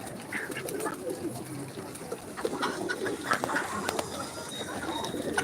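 Native and cross-breed pigeons coo softly amid a busy mix of other farm birds, with a steady chorus of calls and chirps running throughout.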